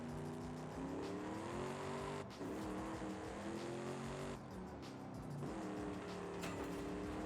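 A Ford F-450 Platinum with a Power Stroke diesel and free-flowing exhaust, tuned to around 1,000 hp, revs hard and continuously, its loud engine note climbing and dipping through several pulls with no talk over it.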